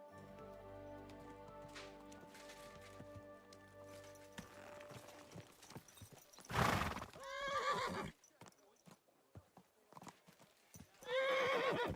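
A horse in the medieval game Kingdom Come Deliverance 2 whinnies loudly twice amid clip-clopping hooves, following a stretch of soft background music, with a player talking faintly at times.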